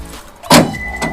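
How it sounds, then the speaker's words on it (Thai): Central locking actuator on a pickup tailgate lock firing once to unlock: a sharp mechanical clunk followed by a fainter click, close by, with no talking. "ตัวปืนเซนทรัลล็อกก็จะดึงชุดขาตัวนี้ขาเหล็กค้ำตรงนี้ออก"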